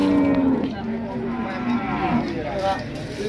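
A pregnant Limousin cross cow moos at a cattle market in Padangan, one long, loud, drawn-out bellow close by followed by a couple of shorter lowing calls, with market background behind it.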